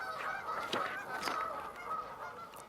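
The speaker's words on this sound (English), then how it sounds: "The Canada geese honked and flew away" Several Canada geese honk repeatedly in loud, overlapping calls, fairly close, with no talking.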